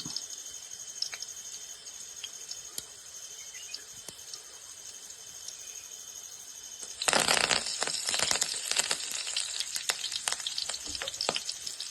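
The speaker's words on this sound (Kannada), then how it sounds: "ಇದಕ್ಕೆ ಕರಿಬೇವಿನ ಎಲೆಯನ್ನು ಸಹ ಸೇರಿಸಿಕೊಳ್ತೇನೆ ನಾನು." Curry leaves dropped into hot oil for sprouted horsegram soup, a quiet steady hiss until a loud, crackling sizzle bursts in and continues with sharp pops.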